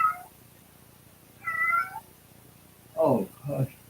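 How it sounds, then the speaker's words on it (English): A cat meows indoors, several short harmonic calls: one at the start, another around the middle, then a louder pair close together near the end, with quiet room between them. "Is that cat in here?"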